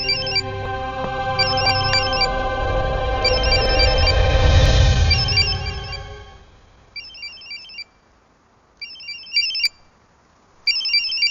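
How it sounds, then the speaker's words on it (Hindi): Phone ringing indoors with a repeating electronic ringtone of short chirping bursts, at first under a swelling dense musical score that fades out, then ringing alone in spaced bursts. "कोई फोन बज रहा है।"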